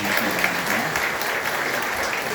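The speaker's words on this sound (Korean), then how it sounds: "박수를 나눠주시기" Church congregation applauding to welcome visitors during a Korean Sunday service, steady dense clapping throughout with no pause.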